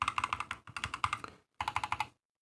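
Unlubed Holy Boba switches on a mechanical keyboard are typed in three quick bursts of close, crisp clacks with short pauses between them. The clip ends in silence, and no one speaks.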